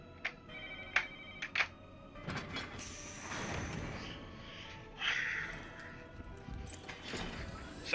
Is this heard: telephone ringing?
yes